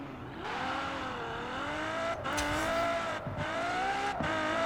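A Ferrari F12tdf driven in Forza Horizon 4 revs hard and loud through several gear changes, with short breaks between rising engine pulls and no talk over it.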